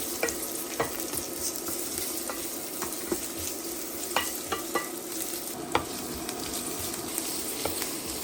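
Sliced onion, ginger and spices fry in a pan for a Malvani prawn curry. A dense, continuous sizzle is broken by frequent light clinks and scrapes of a stirring spoon, heard up close.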